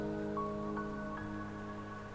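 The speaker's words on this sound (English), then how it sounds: "Don't worry, the rain won't last much longer." Rain falls in the video game Wuthering Waves, a soft continuous patter of drops spread evenly through the scene over a steady droning background tone.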